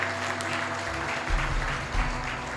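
A crowd claps steadily throughout, a sustained wash of applause with a low hum underneath.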